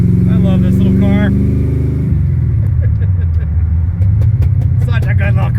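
A 1968 Pontiac LeMans drives down the road, its engine droning loud and steady throughout with a shift in pitch partway, while a voice and scattered clicks sit over the rumble.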